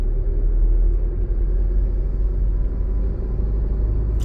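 A car engine gives a steady, loud low rumble close by during a driving lesson, holding an even level without a clear rise in pitch.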